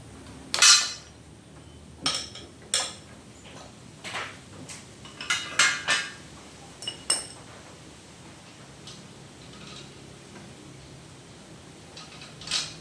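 A metal ratchet and sockets clink and clatter as they are picked up and set down while working on a stock Kawasaki swingarm, a series of sharp, close metallic knocks separated by pauses.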